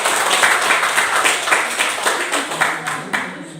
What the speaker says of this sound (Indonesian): Berikan tepuk tangan untuk kita.